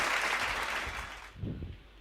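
A church congregation claps together, a dense close wash of applause that fades after about a second, followed by faint low voices.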